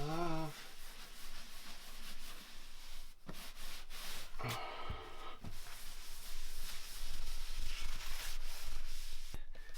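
Rhythmic rubbing and scrubbing across the metal skin of an Airstream trailer being cleaned during a DIY Argosy renovation, a steady close abrasive swishing with brief pauses.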